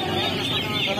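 Kadaknath chickens cluck amid the dense, constant noise of a busy poultry market in Uluberia, with the calls blurred into the crowd din for a brief moment.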